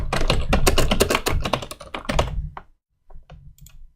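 Fast, close typing on a computer keyboard, a dense run of clacky keystrokes that stops abruptly after a heavier return keypress, followed by a few scattered lighter taps.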